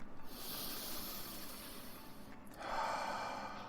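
Slow, deep human breaths drawn in and let out, a long airy inhale followed by a second rushing breath, close and fairly soft with no talking.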